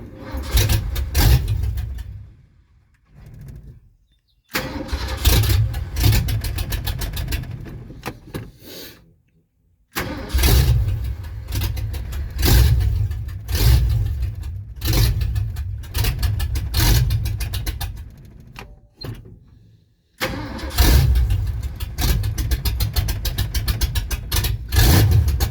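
A 1977 Ford F-350 truck engine with an electric choke cranks and fires, then revs loudly in several bursts separated by short quiet gaps, with the engine dying and being restarted close by.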